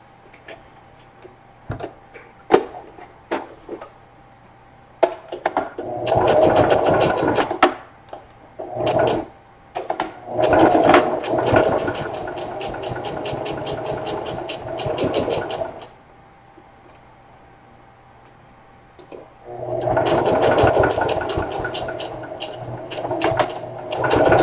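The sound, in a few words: sewing machine stitching straight across a lunch tote seam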